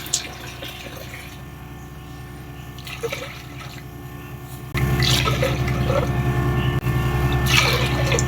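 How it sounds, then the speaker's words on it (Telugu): Water pours steadily into a container of jaggery, starting as a quieter trickle and then growing louder and fuller partway through; no speech. "ఇందులోకి నీళ్ళు వేసుకోండి. 1 కప్పుకి 3 కప్పుల నీళ్ళు వేసుకోండి."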